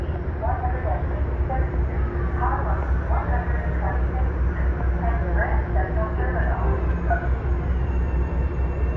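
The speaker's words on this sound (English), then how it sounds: "Now we got a train departing." A Metro-North train rumbles steadily at a distance with low, continuous engine drone as it departs a rail yard, while people talk faintly over the top.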